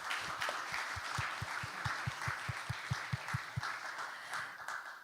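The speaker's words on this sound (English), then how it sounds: "I would like for a round of applause for everyone who has joined us here today" Forum audience members applaud the panelists at a Moldovan IT event, a broad crowd clapping with a clear, rhythmic run of louder nearby claps through the middle before easing off.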